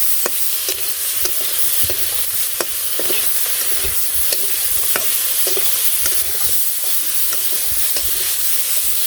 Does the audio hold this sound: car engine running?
no